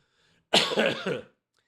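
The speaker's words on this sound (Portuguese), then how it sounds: "A tosse é para dar o timing." A single harsh cough, close and fairly loud, lasting under a second with silence before and after.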